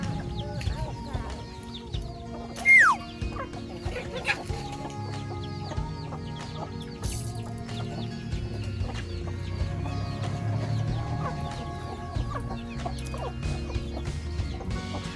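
Chickens being fed cluck intermittently nearby, with short soft calls scattered over a low background hum and occasional voices.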